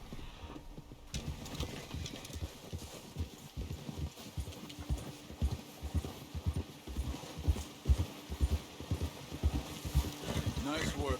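Horse hooves clip-clop in a steady walking rhythm in the video game Red Dead Redemption, close and fairly clear, with game speech and ambient background sound around them.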